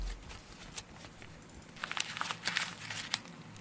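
Paper crinkles and rustles as it is handled in a music production session, soft at first, then busier crackling bursts toward the end, fairly quiet and close.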